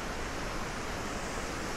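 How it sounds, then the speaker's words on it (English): Large waterfall near Mürren in the Lauterbrunnen valley, a constant dense roar of falling water, steady and fairly close, with no talking. "So this is now the waterfall I wanted to show you in winter, but it was too dangerous."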